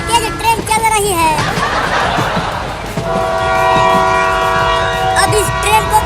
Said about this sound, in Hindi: देखो कितनी तेज ट्रेन चल रही है।